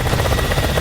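Helicopters in a military strategy video game, a brief, close rotor drone with a rapid pulsing chop and steady engine buzz, loud and alone.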